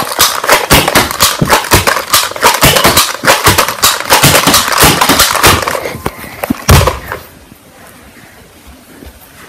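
Guns test-fired in rapid succession, a dense run of sharp cracking shots for about six seconds that then cuts out, leaving a faint quiet tail.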